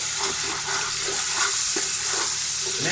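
A pakora kadhi mixture sizzles in a hot pan while a utensil scrapes and stirs through it, steady and close.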